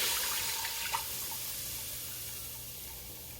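Chicken broth poured from a container into a cooking pot for Cincinnati chili, a soft steady liquid splash and trickle heard close up that tapers off, with no talking.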